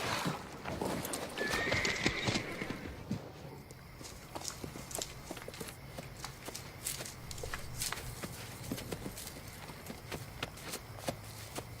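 A horse neighs loudly near the start while hooves clip-clop and shuffle nearby, continuing as an irregular patter of steps throughout.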